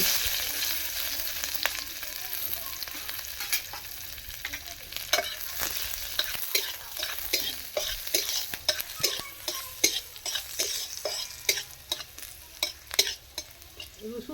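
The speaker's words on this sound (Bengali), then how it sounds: "একটু গোটা জিরে দিয়ে দিচ্ছি একটু রসুন" Whole cumin seeds and garlic sizzling in hot oil in a Bengali village kitchen, a close crackling fry with frequent sharp pops and spatula stirring scrapes that grow busier toward the end, no talking.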